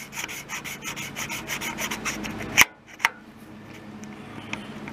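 Dry lapping of a valve in a 16 hp Briggs & Stratton cast iron engine, quick back-and-forth gritty rubbing strokes up close, ending in a sharp clunk, then a single tap and quiet.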